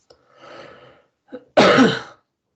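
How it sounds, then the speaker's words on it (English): A person clears their throat, then lets out one loud, harsh cough close by, with brief breathy sounds before it. "Apologies for the coughing."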